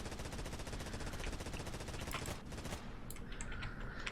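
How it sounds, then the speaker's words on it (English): Light machine guns on a ship in Stormworks fire in a dense, continuous rapid burst, loud and close, with a steady rattling rhythm that thins out toward the end. "you can see how fast you fly through ammo on these light machine guns"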